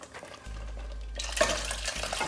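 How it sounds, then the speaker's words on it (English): Boiled chickpeas tipped into a pan of Indian chana curry, a soft wet plop and shuffle of the legumes landing in the oily gravy, brief and fairly quiet over a low steady hum. "now I'm going to add the boiled chana that I have here"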